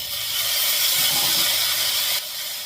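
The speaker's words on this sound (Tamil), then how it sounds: "இப்போ தக்காளியை வதக்குறீங்க?" Tomatoes sauté in a pan for a lentil-free tiffin sambar, making a steady hissing sizzle throughout that drops slightly in level near the end.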